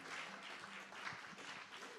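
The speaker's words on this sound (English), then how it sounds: "give everyone a round of applause before we sort the last song" Quiet applause from a small audience at a live music gig at The Bedford, a faint steady patter of clapping with some low murmuring underneath.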